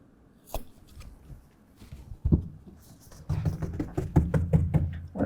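Material is cut to fit while a RealTruck Extang Trifecta 2.0 soft folding tonneau cover goes onto a truck: irregular close snips, knocks and crunchy cutting taps that grow denser and louder toward the end.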